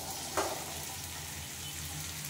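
Lote fish (Bombay duck) frying with spices in a pan, a steady soft sizzle throughout with a brief louder burst of spatter near the start, close and continuous with no talking.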